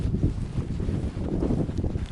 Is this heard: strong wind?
yes